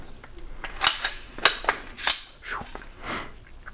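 A DPMS Oracle AR-15 battle rifle being cleared, a string of sharp metallic clicks and clacks from the action, irregularly spaced and close by, with brief sliding scrapes between them.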